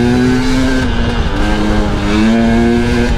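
A KTM 300 two-stroke motorcycle engine revs hard and close, its buzzing pitch dipping briefly then climbing again as it accelerates through the gears.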